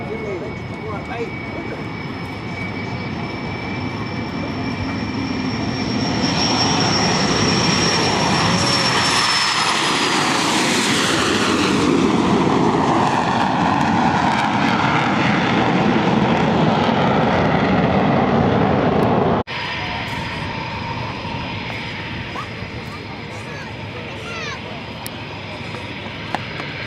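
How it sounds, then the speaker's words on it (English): An English Electric Canberra jet at the Farnborough Airshow begins its takeoff run, engines spooling up to a loud, sustained roar with a whining tone, swelling and then cutting off abruptly near the end. "Canberra starting the takeoff run."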